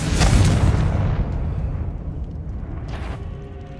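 A Confringo fire spell explodes in the Hogwarts Legacy game with a loud, deep boom that rolls and slowly fades, followed by a brief crackling burst near the end.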